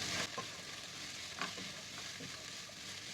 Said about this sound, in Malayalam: നല്ലതായിട്ട് ഇളക്കി മിക്സ് ചെയ്യാം